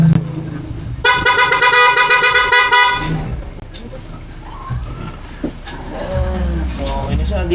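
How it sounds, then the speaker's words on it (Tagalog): A loud PIAA horn fitted to a Honda Giorno scooter blasts one sustained, bright honk close by for about two seconds, followed by quieter shop noise and brief talk. "Ayan, napakalakas ng busina."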